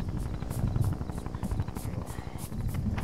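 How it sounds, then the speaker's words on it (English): Helicopter in the video game Arma 3, its steady rhythmic rotor chop thumping at moderate volume and filling the short stretch on its own. "Helicopter."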